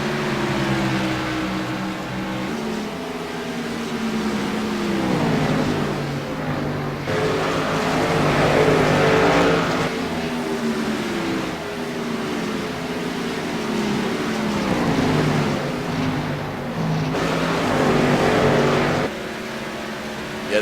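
Stock cars race at Richmond International Raceway, including a Chevrolet pushed hard near the wall, their engines roaring steadily and loudly with rising and falling revs as cars pass, the noise continuous throughout with no talk.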